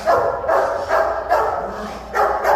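A trained protection dog barks in repeated bursts, about five loud barks spaced roughly half a second apart, close by with no talking over them.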